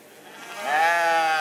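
Sheep bleat loudly and close by at a farmers' protest on the Place du Trocadéro in Paris, one drawn-out, wavering bleat rising in strength and holding to the end.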